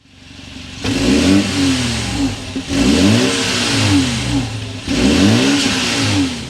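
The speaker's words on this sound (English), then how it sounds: "start it up so you could hear that exhaust note" A 2024 BMW 530i sedan's engine revs up three times in quick bursts, each rising and falling, with a throaty exhaust rumble close by.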